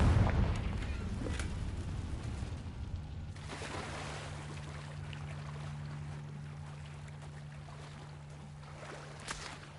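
An explosion from the Confringo spell in the video game Hogwarts Legacy: a loud blast at the start that decays into a long rumbling tail and steady low hum, with no talking.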